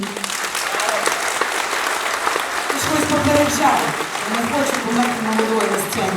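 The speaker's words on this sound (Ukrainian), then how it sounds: "П'ять хвилин оплески для вас" Loud, sustained applause from a concert hall audience at a charity concert, continuous clapping throughout with voices and music audible beneath it.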